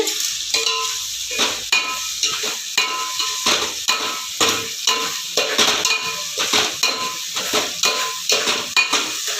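Onions frying and being stirred in a pan for a jilebi fish curry, with steady sizzle and a run of regular scraping strokes from the spoon against the pan, close and alone.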